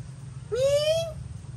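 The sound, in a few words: cat meowing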